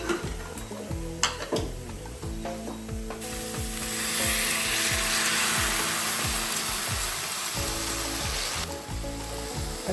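Boiled mixed vegetables for bhogichi bhaji (khengat) are stirred back into masala in a pan. Repeated scraping spatula strokes run over a steady sizzle and frying hiss, with no talking.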